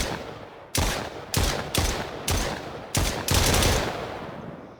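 Projectile bullets firing in an Unreal Engine 5 multiplayer game: six loud, close gunshots come at a fairly steady pace, each with a sharp attack and a ringing tail that carries into the next shot.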